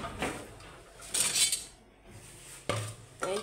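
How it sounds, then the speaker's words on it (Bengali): Pots, pans and metal utensils clink and scrape in a home kitchen while fish is frying, in a few separate bright clattering bursts with quiet gaps between them. "এই মাছগুলো ভাজি করে রাখছি।"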